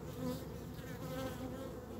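A dense, steady buzz of many honey bees swarming close by, continuous and humming without pause, with no voices.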